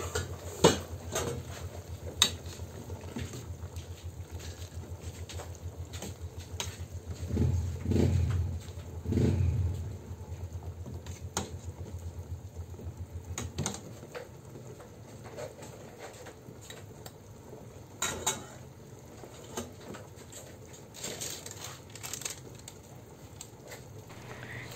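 A spoon stirs fish sinigang with malunggay in a cooking pot, giving faint scattered metallic clinks and scrapes over a low background hum, with a brief louder bubbling or rustling stretch partway through.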